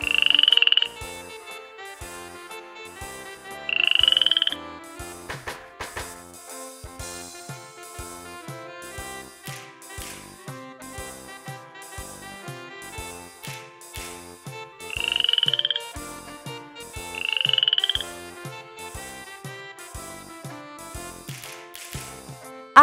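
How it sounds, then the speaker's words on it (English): A frog croaking in a children's animal-sound sequence, four short bright croaks at about 0, 4, 15 and 17 seconds over steady background music. "Frog."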